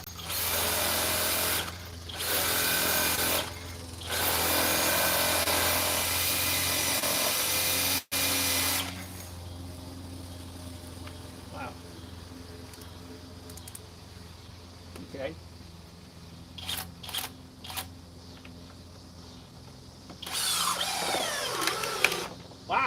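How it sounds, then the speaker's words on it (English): A Flex 24V lithium cordless hammer drill runs in several loud bursts, whirring steadily, then drops to quieter intermittent buzzing before one last loud burst near the end. "Flex turbo hammer drill, 6 amp stick lithium"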